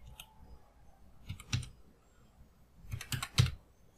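Several quick clusters of computer keyboard keystrokes as a one-time passcode is entered, a short burst, a pause, then a second faster burst of clicks, close and fairly quiet in a still room.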